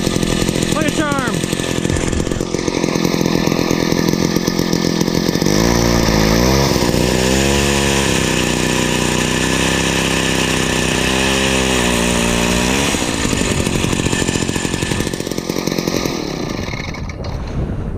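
A Jiffy Model 31 ice auger's two-stroke engine, freshly fixed with a new spark plug and diaphragm, runs loud and close with no choke, rising into revved bursts and settling back to a steady snarl.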